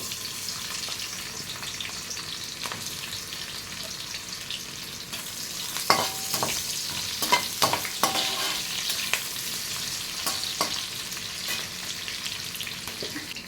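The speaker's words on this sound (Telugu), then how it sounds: "సో ఇప్పుడు ముందుగా తరిగి పెట్టుకున్న ఉల్లిపాయ ముక్కలు వేస్తున్నానండి." Chopped onions frying in hot oil with whole spices for pulao, a steady close sizzle broken by clinks and scrapes of a spoon stirring the pan midway.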